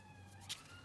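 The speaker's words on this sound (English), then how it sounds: "I think it might have been a police car" A police car siren wails faintly from outside a room, a steady tonal whine sustained throughout a brief moment, distant and muffled indoors, with no talking.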